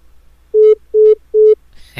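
Three identical low beeps of a disconnected phone call repeat at an even pace, loud and close, ending in a brief click.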